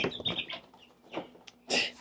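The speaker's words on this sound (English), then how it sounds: "Got chickens trying to escape over here." Chickens kept in a tub flap their wings and scramble as they try to escape, giving short bursts of fluttering and scuffling with a few clucks, close by.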